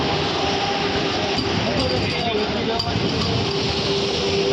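A Vande Bharat train runs between Srinagar and Katra, a loud, continuous rumble with clinking and faint wheel squeals, and voices murmur throughout.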